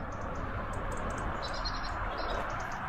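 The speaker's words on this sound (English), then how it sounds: "Cool, you can hear all the birds singing" Small birds chirp and tweet in a forest, bright calls scattered over a steady broadband background hiss, with no talking.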